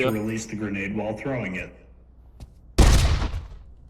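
Someone talks excitedly, then after a short lull a loud burst of grenade explosion noise from the VR video game Pavlov VR erupts and rumbles on to the end.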